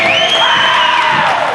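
Spectators at a North Greenville men's college volleyball match roar and whoop loudly in a dense, continuous cheer that fills the hall.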